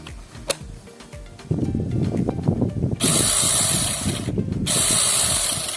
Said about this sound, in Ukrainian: Пробуємо ще раз 6-дюймову.